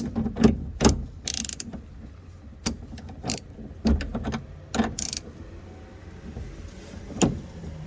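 A ratchet wrench with an 18 mm socket turns a stubborn bolt during a Jeep Comanche restoration, giving scattered sharp clicks and short ratcheting bursts, close and loud, with pauses between strokes.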